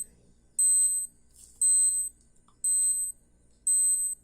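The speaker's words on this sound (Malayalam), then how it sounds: "ഇതിങ്ങനെ വർക്ക് ചെയ്ത് 1 മിനിറ്റ് ആകുമ്പോൾ ബീപ്പ് സൗണ്ട് കേൾക്കും" G-Shock watch countdown timer reaching one minute: four evenly spaced bursts of shrill electronic beeping, each a quick cluster of high tones, close and loud against near silence.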